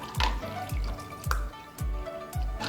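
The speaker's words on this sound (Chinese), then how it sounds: "来点茉莉花茶，" Jasmine tea is poured into a bottle over ice, green grapes and lime, a soft trickling liquid sound running beneath rhythmic background music.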